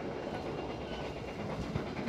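Steady low rumble and hiss of a moving Bima train in Indonesia heard from inside an executive-class carriage, with faint rhythmic rattling.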